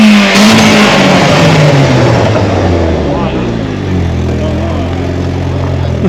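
A Chevrolet Camaro ZL1 with a Corsa exhaust revs loudly up close at a car show, the engine note rising and falling with pops through the exhaust, while people talk over it.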